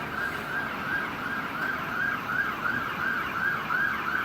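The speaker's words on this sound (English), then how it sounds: "That's an ambulance. They're coming to get you." An ambulance siren wails continuously in a rising-and-falling cycle, loud and fairly near with road traffic noise underneath, no voices.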